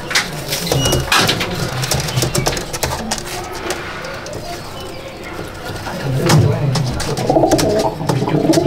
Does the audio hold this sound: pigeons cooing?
yes